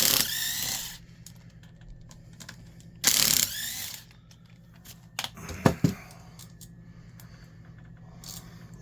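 A small Makita driver backs short, slightly triangular screws out of a Milwaukee 1675 Hole Hawg drill during servicing, giving brief whirring and ratcheting bursts separated by quiet, followed by small clicks and clinks of parts.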